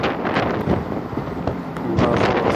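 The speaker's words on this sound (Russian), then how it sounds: "Даже вот смартфон в моих руках раскачивается от этого ветра." Strong wind gusting around a monument with swaying pine trees, a steady, rough broadband roar buffeting the microphone close up, with louder surges near the start and end and no talking.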